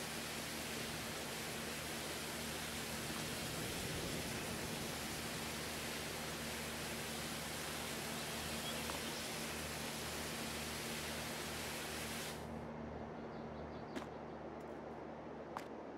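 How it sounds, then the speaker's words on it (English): A pressure washer sprays in Farming Simulator 22 as a continuous loud hiss that holds steady, then cuts off abruptly near the end, leaving quieter ambience with a couple of small clicks. "Hopefully, the pressure washer hose reaches."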